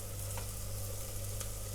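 Masala spices being stirred and fried in a pan while cooking a whole brinjal curry, a steady close sizzle with a couple of soft scraping stirs, no talk.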